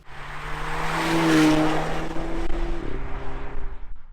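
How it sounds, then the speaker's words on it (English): Dual-motor performance Polestar 2 electric car accelerating onto a highway, heard from inside as a steady rising whine with strong road and tyre rumble that swells and holds. "we are pulling onto the highway, so why not do a little pull as well, as this is the dual-motor performance"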